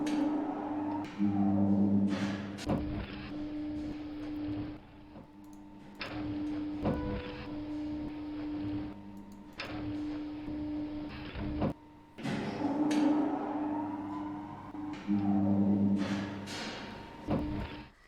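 Dewhurst lift levelling at a floor, with a moderate motor hum broken by clunks and clicks, several distinct mechanical thuds and swelling whirs over the span, fairly close and without talk.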